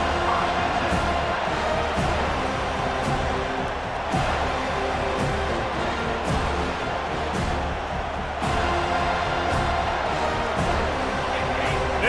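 A stadium crowd at a football game roars in a continuous, loud wash of noise, with surges and occasional thumps. A commentator talks over it.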